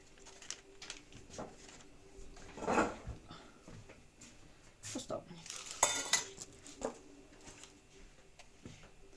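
A utensil scrapes and clinks in a bowl while cookie dough is mixed, with scattered knocks and a couple of louder clatters, and voices speak quietly in the background.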